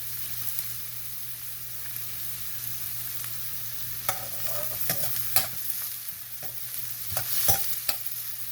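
Chopped white onion sautéing in a pan, a quiet, low sizzle with scattered stirring clicks and scrapes that grow busier toward the end.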